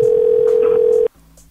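A telephone emits a loud, steady single-pitch tone for about a second, then cuts off abruptly, leaving a fainter lower buzz and a short chirp.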